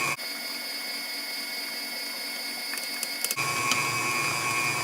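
An electric mixer whirs steadily through sweet potato pie filling with white sugar, a continuous motor hum that shifts to a fuller, lower tone partway through, with no talking.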